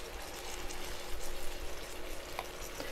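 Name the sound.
whisking cornstarch, milk and apple butter mixture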